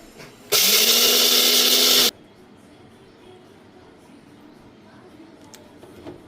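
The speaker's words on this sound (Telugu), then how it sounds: "మిక్సీ చెయ్యాలి." A kitchen mixer grinder blends ginger, fenugreek, black pepper, cumin and tomato for rasam in one loud, close whirring burst of about a second and a half, then cuts off to near quiet.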